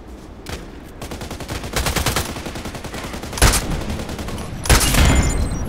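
Sniper rifle shots in the online shooter Contract Wars ring out amid a running fusillade of gunfire, with two especially loud, sharp cracks standing out near the middle and toward the end.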